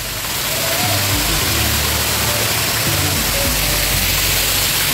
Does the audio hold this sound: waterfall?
yes